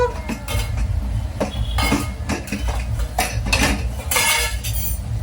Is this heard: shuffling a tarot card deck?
no